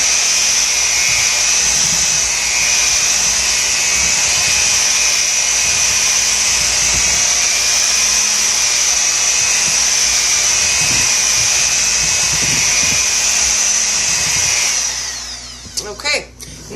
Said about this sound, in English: And we're going to turn up our mixer just a little bit.